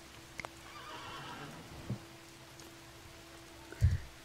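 Horses in the video game Dawn of Man give a faint neigh, followed by a few soft thuds and a louder low bump near the end, over a quiet steady background.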